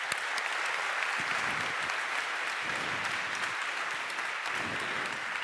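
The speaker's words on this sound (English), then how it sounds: "I'd just like to give a bit of a round of applause to CodeGram" An audience at a developer talk gives a sustained round of applause for CodeGram, dense steady clapping that stays loud and even throughout with no voices over it.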